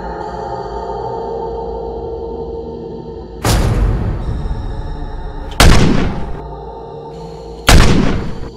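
Three loud, sharp gunshots spaced a couple of seconds apart, each with a booming tail, over a low steady background hum.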